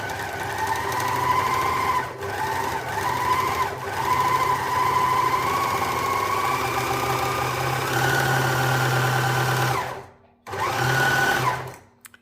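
A serger (overlock machine) runs steadily while sewing a rolled hem, a continuous fast mechanical whirr with slight wavering, briefly stopping near the end and then starting again.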